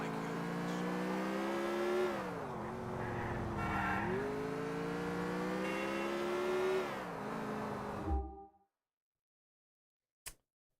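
Car engine in the video game Grand Theft Auto IV, a steady droning motor note rising and dipping with throttle changes over eight seconds, then cutting off abruptly to silence with one faint click afterward.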